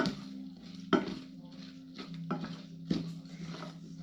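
Elderberry syrup with cinnamon and a single clove being stirred in a pot, a spoon clinking against the side at roughly one-second intervals over a low steady background hum, with no talking.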